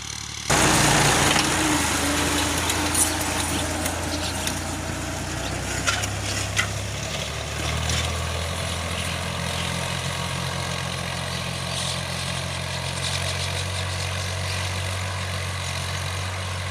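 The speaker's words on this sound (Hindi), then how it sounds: "जहाँ जहाँ पे हल चल रहा है ना, ट्रैक्टर जा रहा है" A tractor hauling a plough across a farm field, its engine a steady low drone that shifts pitch as it works, heard continuously from moderate distance with outdoor wind noise.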